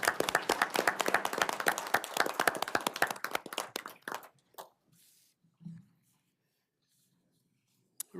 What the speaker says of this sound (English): we applaud you for your efforts and your accomplishments